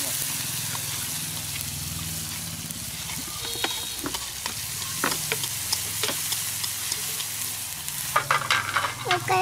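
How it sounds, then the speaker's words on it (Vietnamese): Tomatoes and pork ribs are stir-fried in a pan, a continuous close sizzle broken by stirring scrapes and clatters of the utensil, with some faint talk in the background. "Đảo cà chua nát đi rồi bắt đầu mình cho sườn vào mọi người."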